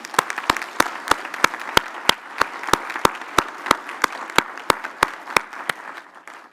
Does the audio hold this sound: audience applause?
yes